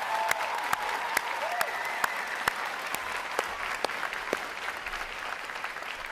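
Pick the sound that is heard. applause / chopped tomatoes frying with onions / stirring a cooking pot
applause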